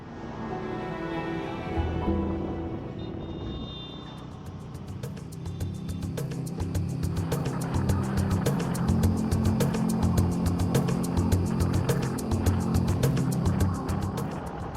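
A motorcycle rides along a metal road between Kaliamba and Satkosia, its steady engine drone rising slightly as it goes, with a rapid ticking rattle running through the second half.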